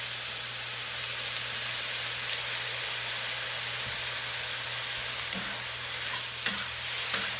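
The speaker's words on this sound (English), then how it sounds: "I'm just going to stir that up" Fried rice with teriyaki sauce sizzling in a hot pan as it is stirred, a loud continuous frying hiss with occasional soft scrapes near the end, no talking.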